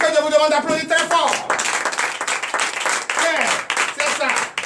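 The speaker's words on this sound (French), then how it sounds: "Que je vous demande d'applaudir très fort." A church congregation at a night deliverance service claps loudly in rapid, uneven bursts, while a voice keeps talking over the applause throughout.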